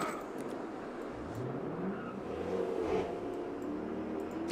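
A car engine revs outside at a distance, a steady rumbling drone with a rising pitch sweep partway through, alone with no talk.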